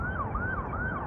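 Emergency vehicle sirens wail near the Las Vegas Strip, a rising and falling tone that cycles steadily and sounds loud and fairly close with no talk.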